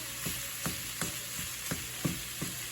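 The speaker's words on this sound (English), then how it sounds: "So as you can see, the hamburger is starting to brown, and that's what we want." Ground beef browns in a pan for tacos, giving a quiet, steady sizzle with a rhythmic series of soft scraping stirs about every third of a second.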